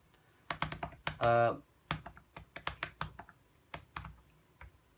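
Typing on the keyboard for an iPad Pro 9.7", a series of close, crisp key clicks in an uneven rhythm with short pauses, briefly interrupted by a tonal electronic chirp.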